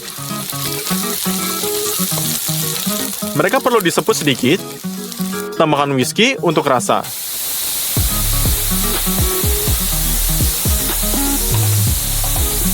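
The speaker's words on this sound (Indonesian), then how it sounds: "Mari kita goreng jamurnya, ringgi dan dalam wajan." Mushrooms sizzle in a frying pan with some stirring, and whisky is added for flavour. A voice talks over the cooking, and a louder, fuller sizzle takes over toward the end.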